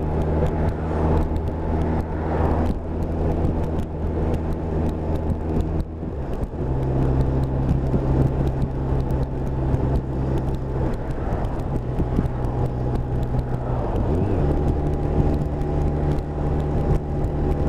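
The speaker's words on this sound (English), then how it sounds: "Just enjoying the ride this morning, and as I always say on this thing, it is like riding an armchair." A comfortable touring motorcycle cruises along a road on a morning ride, its engine humming in a steady low drone under wind and road noise, easing briefly partway through and then settling back into a continuous rumble.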